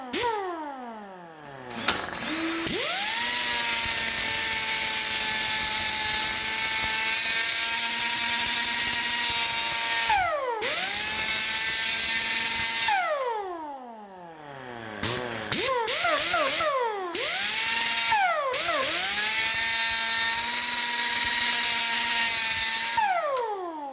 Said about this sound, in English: Now I'll chuck that up in the lathe.